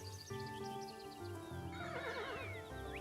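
A horse mount in a video game neighs in a loud, wavering whinny, with hoof clip-clops and game music underneath.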